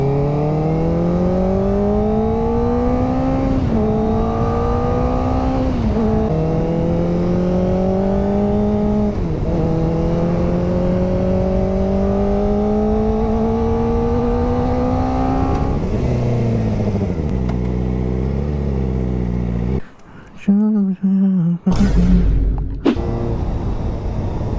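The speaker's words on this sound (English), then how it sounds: "I'll also get the clip of like the muffler sound, just because I'm able to actually rev up the motorcycle now" Kawasaki Ninja ZX4R motorcycle engine revving loudly through its muffler, climbing through several rising pitch sweeps with brief dips between them, then settling to idle before a few sharp blips at the end.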